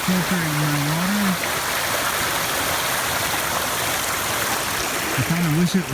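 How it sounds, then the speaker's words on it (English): Steady rushing of a mountain stream along a hiking trail, a constant close wash of flowing water, with a voice talking briefly at the start and end. "Here's the stream where I'll be filtering my water."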